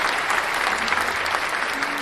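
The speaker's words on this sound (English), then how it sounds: "little round of applause." Brief, dense applause rings out during a live market trading stream, many hands clapping steadily and fairly loud for the whole short stretch.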